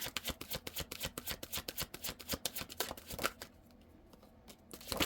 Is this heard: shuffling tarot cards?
yes